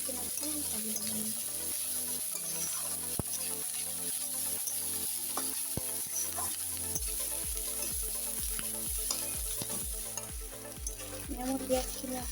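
Onions frying in a pan for a vegetable chorchori, a steady soft sizzle running throughout with faint stirring scrapes and no talk.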